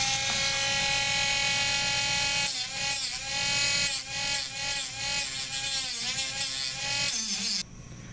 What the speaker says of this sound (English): So just a touch with a Dremel tool or a file, we'll get rid of that.